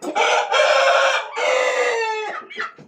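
A prize rooster crows loudly and close, two long sustained crows followed by a shorter trailing call, with no talk over it.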